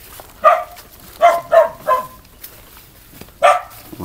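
A dog barks five times in short, sharp, fairly close bursts, three in quick succession and then a final one after a pause, with quiet background between.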